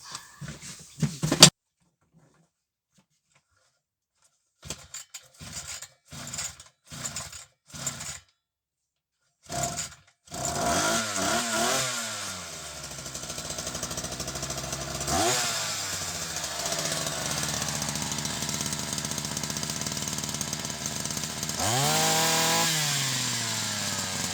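An Altai petrol brush cutter is pulled several times with short sputters, then catches and runs steadily, its engine rising and falling in revs as it keeps going close and loud.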